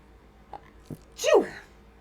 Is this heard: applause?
no